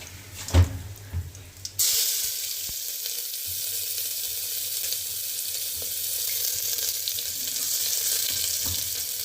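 Steady loud sizzling of onions frying in hot oil in a pressure cooker, starting abruptly after a few soft clinks and continuing evenly throughout.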